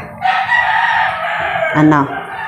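Backyard chickens cluck close by while a rooster breaks into a loud crow, brief overlapping calls with a voice faintly present.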